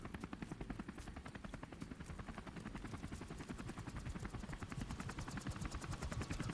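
A helicopter in the video game Modern Warfare Remastered, during the Blackout mission, makes a continuous, rapid rotor thumping that keeps an even rhythm throughout, fairly quiet and with no voices.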